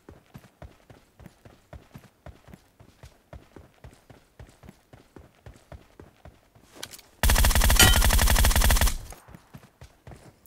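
Gunfire in the game PUBG Metro Royale: a long run of quick, even shots rattles on for several seconds, then a dense, loud burst of sustained automatic fire follows before fading.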